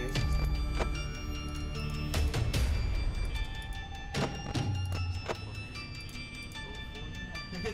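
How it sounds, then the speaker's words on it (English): In Five Nights at Freddy's gameplay, animatronics shift around with soft thunks and thuds, scattered irregularly over a background hum of tonal game sounds, with faint intermittent voice. "I can still hear them moving around."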